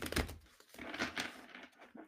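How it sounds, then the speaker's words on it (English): Tarot cards being shuffled by hand, a few quick papery riffles and slides in short bursts, close and fairly soft, with no talking. "One more shuffle."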